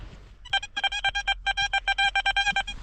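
A metal detector gives a rapid series of electronic beeps, sharp tonal pulses repeating in quick bursts with short gaps, loud and close with no talking.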